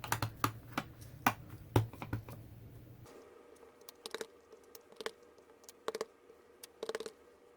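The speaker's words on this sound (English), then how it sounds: "I'm just going to stamp daisies everywhere." Rubber stamp pressed repeatedly onto card to print daisy images, with an ink pad in use, giving a run of sharp tapping and clicking knocks, busy at first, then sparser over a quiet background.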